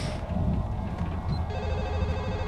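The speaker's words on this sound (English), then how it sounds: "Right, the old phone call." A telephone rings in Max Payne 2, a steady electronic trill that repeats over a low rumbling game backdrop, with no talk.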